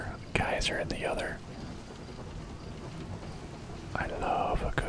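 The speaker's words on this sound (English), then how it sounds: "I love the sound of a good water wheel." A water wheel mechanism in the Outer Wilds video game turns with a steady, soft gear-like churning and faint ratcheting, set beneath a close whispering voice that drops away in the middle of the stretch.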